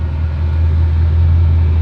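Car engines rumble steadily on a jammed road, a dense low drone of idling and creeping traffic close by with no voices over it.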